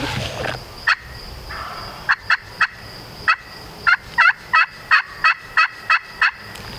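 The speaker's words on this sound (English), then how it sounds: "you gobbled again" A wild turkey gobbles again and again in the field during a spring hunt, more than a dozen sharp, loud bursts coming in quick succession with short pauses between them, close by and with no talking.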